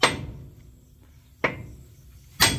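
Hammer blows striking a stubborn axle pin on a combine harvester's wheel, three sharp metallic impacts spaced about a second apart, close and loud with quiet gaps between.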